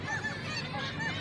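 Seagull calls at the seashore, a few harsh honking cries close together over steady background noise.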